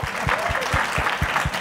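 An online panel audience on school testing and assessment claps, giving a short burst of sparse, rhythmic individual claps heard up close, with a faint hint of a voice in the background.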